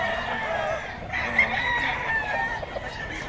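A Boston White gamefowl rooster crows nearby, a clear, drawn-out cock-a-doodle-doo with a few clucks around it over steady outdoor background noise.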